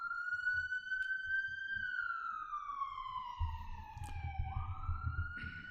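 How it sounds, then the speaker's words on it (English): An emergency siren passes by outside a window, a long sliding wail that rises, then falls steadily in pitch as it moves away, fairly distant and faint, over a low background rumble. "Don't know if you guys could have heard that that siren passing by."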